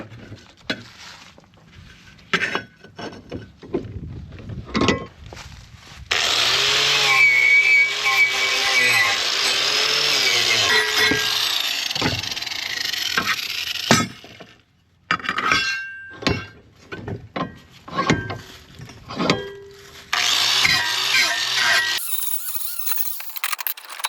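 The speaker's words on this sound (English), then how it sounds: "I'm gonna deburr these." Metal tubing cut for a utility trailer is deburred with a power tool, giving long sustained grinding whines and squeals broken by short bursts and clinks as each cut piece is worked, close and loud with no talk.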